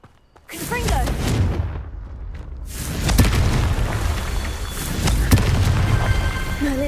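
A Confringo blasting spell goes off in Hogwarts Legacy, a deep booming explosion with a rumbling tail, followed by further heavy blasts and crackling over a sustained low roar, with brief game voice sounds mixed in.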